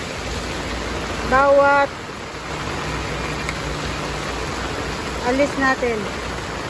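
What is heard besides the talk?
heavy rain during a typhoon in Hong Kong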